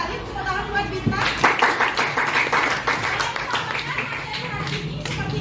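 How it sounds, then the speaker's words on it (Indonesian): A school class claps for a student, with scattered hand claps building into a lively round of close clapping. Voices talk faintly underneath. "Tepuk tangan buat Bintang."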